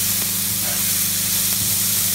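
Prawn masala fries in a pan over low to medium flame, giving a loud, continuous hissing sizzle that stays even from start to finish.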